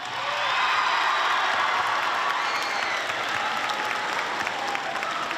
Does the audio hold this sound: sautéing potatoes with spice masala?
no